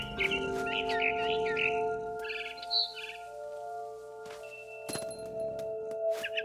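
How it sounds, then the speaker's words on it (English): A barn swallow chirping outside a window in the video game What Remains of Edith Finch, quick bright chirps early on over a steady musical drone, then fading to sparse clinks. "Then I heard chirping outside my window. It was a barn swallow going back to her nest."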